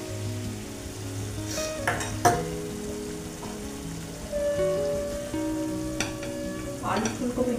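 Coriander-cumin paste frying in a pan for a cauliflower and bhetki fish dish, a loud sputtering sizzle with clinks of stirring, close up and steady throughout.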